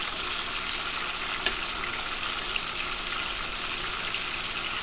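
Green beans blistering and frying in a hot pan give a steady, dense sizzle that stays close and even throughout, with a couple of faint pops and no voices.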